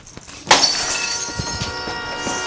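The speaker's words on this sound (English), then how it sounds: "There's a bunch of shards of glass in the middle of the goddamn hallway!" Glass smashes with a sharp crash, then shards tinkle and skitter across a hallway floor, close and fairly loud, with no talking.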